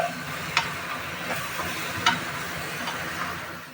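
Mixed vegetable curry frying with roasted spice powder in a pan, a steady moderate sizzle with a few sharp clinks of the stirring spoon against the vessel.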